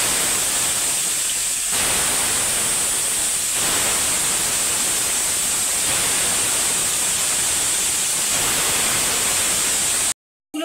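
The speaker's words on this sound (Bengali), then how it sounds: "কড়াইতে সর্ষের তেল দিয়ে দিয়েছি। মাছটাকে ভালো করে পরিষ্কার করে ভেজে নেব।" Folui fish fry in mustard oil in a wok, giving a loud, steady, unbroken sizzle that fills the whole stretch with no voices, then cuts off abruptly at the end.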